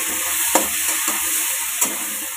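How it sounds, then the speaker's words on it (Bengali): Masala with salt, turmeric and Kashmiri red chili powder frying steadily in a pan for Bengali rui or katla fish curry, a continuous sizzle broken by a few sharp spatula scrapes, close and alone. "সব কিছু দিয়ে মশলাটা খুব ভালো করে কষিয়ে নেব।"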